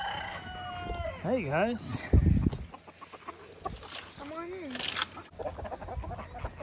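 Chickens cluck and squawk close by, with a rooster-like call among them, while a person speaks briefly over the birds.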